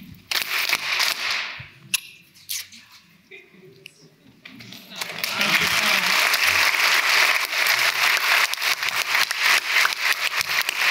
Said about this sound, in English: And it's called the love clap.